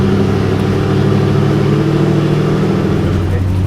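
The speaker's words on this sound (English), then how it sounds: "So Frank, can we take this one out on the road?" A classic 1970s car idles and pulls away on the road, its engine a loud, steady, close rumble throughout.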